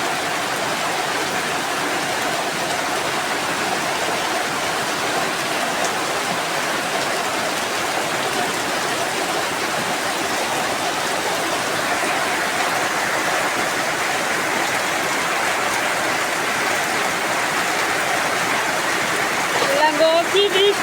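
Heavy rain pouring down outdoors during cooking, a loud continuous rushing hiss lasting throughout, with a few faint clinks near the end.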